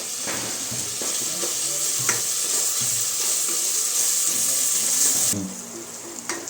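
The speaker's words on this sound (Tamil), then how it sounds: "தக்காளி போட்டு இந்த பச்சை வாசனை போகிற வரைக்கும் இன்னும் நல்லா வதக்கி விட்டுக்கலாம்" Tomatoes for pea kurma sauté in a pan and are stirred. A continuous close sizzle carries repeated spoon scrapes, then a clunk near the end leaves a softer hiss.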